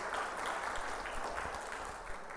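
A church congregation applauding during a sermon, a steady, faint wash of many hands clapping at a distance, continuous throughout with no voice over it.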